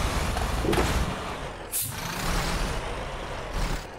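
An Eicher cement-loaded lorry labors up a ghat road in Bus Simulator, a continuous low engine drone with a sharp air-brake hiss near the middle and rumbling strain continuing afterward.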